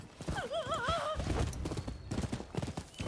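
A horse in the video game Rise of the Ronin whinnies with a wavering neigh, followed by a quick run of close, rhythmic hoofbeats clopping along at a moderate volume.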